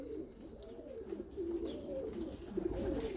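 Racing pigeons coo softly in a loft, with repeated rolling, throaty calls overlapping in a gentle rhythm against low background hum.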